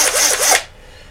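A power drill bores into a rubber cast workshop model in one brief, loud whirring burst that cuts off after about half a second, leaving quiet room tone.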